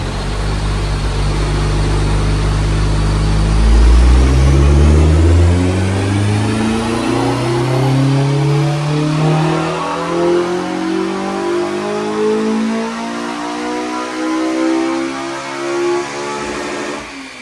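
A Honda Civic EP3 Type R with a K20 engine revs hard on K-Pro tuning, climbing and falling in long sustained sweeps through the rev range. The engine is loud and close, with no talk over it.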